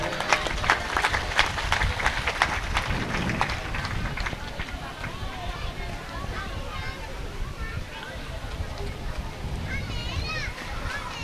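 An audience claps loudly at a Shree Ram Katha religious discourse gathering, a dense burst of applause that gradually thins while people talk over it.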